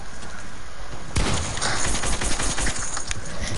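Gunfire in the online survival game Rust, a dense burst of rapid shots starting abruptly after a quieter lead-in and continuing as a loud, crackling fusillade.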